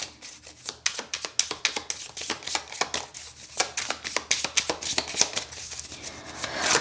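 Tarot cards being shuffled and drawn for a reading: a fast, continuous run of crisp riffling and flicking card sounds, close up, with rhythmic bursts and no talking.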